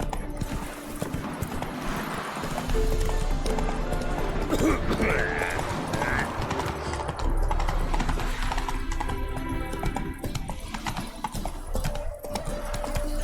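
The horse Roach gallops in The Witcher 3, hooves drumming in a fast continuous clip-clop under a busy game soundscape of rumble and ambient noise throughout the stretch.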